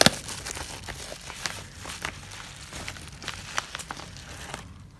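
Scissors cut and crinkle through the packaging of a tarot card deck, a quiet run of snips, rustles and crackling close by, ending in near silence.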